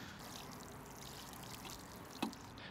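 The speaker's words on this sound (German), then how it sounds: "So ein bisschen Wasser drauf, das war es dann eigentlich schon." A little water poured onto freshly planted garlic in a garden bed, a faint, steady splashing trickle with one brief sharper splash near the end.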